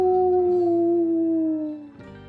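Wolves howl together in a sustained, wavering tone that slowly falls in pitch, then fades before a brief new swell, heard alone.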